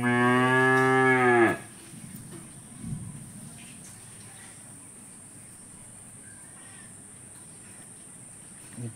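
A hungry cow gives one loud, drawn-out moo close by, lasting over a second, followed by quiet farmyard ambience with faint insects and a soft voice in the background.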